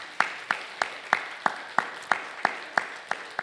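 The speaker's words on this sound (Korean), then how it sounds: "하나님께 영광의 박수 올려드립시다." A church congregation at a Korean Sunday service claps together in a steady, even rhythm, about three sharp claps per second, loud and close, with no talk over it.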